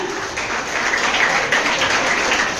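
Audience at a Tamil book festival debate clapping their hands, a dense, steady patter of many hands applauding together for a few seconds.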